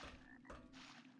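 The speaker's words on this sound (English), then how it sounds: "that where the frog ended up?" A frog in the video game Arx Fatalis gives a single short, rough croak, close and fairly loud, over a steady low hum.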